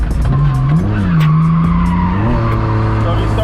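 A pickup truck drifting on a race track, tires skidding and squealing loudly up close while the engine holds a steady roar, its pitch rising and falling with throttle changes.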